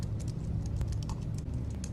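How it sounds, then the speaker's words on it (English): Quick, uneven bursts of keystrokes on a computer keyboard as a file name is typed, close and fairly crisp, with no talking. "So go File, Save As, and type in 6G"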